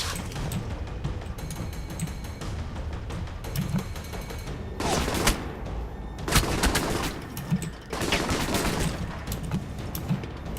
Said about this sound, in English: Where am I being fucking shot at from?